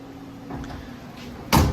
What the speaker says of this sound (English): these doors shut better than any of the newer trucks I've got on the yard